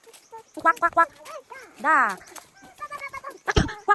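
Ducks in a rural village in the Ifugao highlands give a few short, nasal quacks and one longer bleating call, spaced out and fairly close, with people speaking between them.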